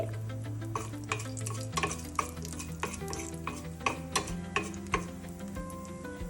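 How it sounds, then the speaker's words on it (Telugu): Mustard seeds, cumin and urad dal sizzle in a little oil in a kadai for a hotel-style chutney tempering, a steady close frying hiss dotted with sharp little pops and stirring clicks. "అదే కడాయిలో కొంచెం ఆయిల్ వేసుకొని తాలింపు గింజలు ఆవాలు జీలకర్ర మినపప్పు వేసుకోవాలి"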